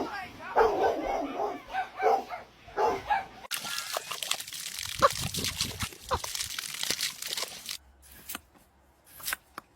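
A puppy barks and yaps in short bursts at close range, mixed in with people talking and laughing in a playful household scene.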